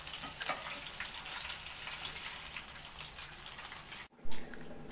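Cauliflower pakoras deep-frying in hot oil give a steady, close sizzle with crackling bubbles throughout, broken near the end by a short louder clatter.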